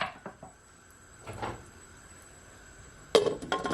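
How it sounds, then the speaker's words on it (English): A lid clatters onto a metal cooking pot of red herring for Jamaican ackee and red herring. Several short knocks come first, then a sharp clink followed by rattling, close by and fairly loud. "Cover my pot, or you can just off cover it so it doesn't boil over"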